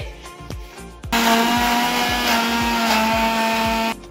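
A blender whirs loudly and steadily for about three seconds, grinding coriander leaves, ginger, garlic and green chilli into a paste, preceded by a few short clunks and taps, then cutting off abruptly.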